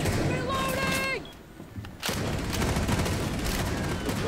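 Gunfire in the tactical shooter Rainbow Six Siege comes as dense, rapid bursts that fill the clip, with a voice briefly heard at the start and a short lull before the shooting resumes.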